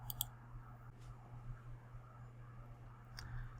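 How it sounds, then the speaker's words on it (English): A computer mouse clicks on a web page link, a couple of quiet, sharp clicks over a steady low electrical hum. "Let's click on the IR spectrum"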